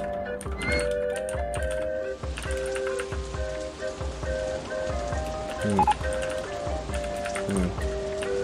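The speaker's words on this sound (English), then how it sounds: "It's raining again." Steady rain patters in the theme park game OpenRCT2, a soft continuous drizzle of droplets under game music, with scattered clicks.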